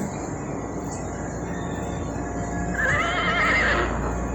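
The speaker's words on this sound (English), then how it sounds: "horse," A horse neighs partway through, a bright quavering whinny over a steady low background rumble, fairly close and without any talk.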